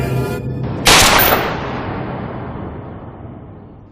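A single loud gunshot in a horror movie scene, a sharp blast after a brief quiet stretch followed by a long decaying echo.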